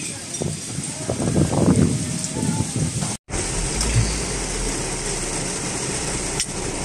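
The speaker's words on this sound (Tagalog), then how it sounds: "Hindi na huminto yung ulan." Steady rain near Puerto Princesa, Palawan, patters in a continuous hiss, with a few faint voices and movement sounds early on before a brief cut.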